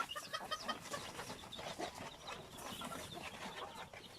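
Rhode Island Red chickens and roosters on a free-range farm, soft, continuous clucking and murmuring from several birds, fairly faint and close by.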